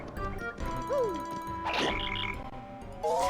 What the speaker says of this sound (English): You notice the cricket sound when I hit things.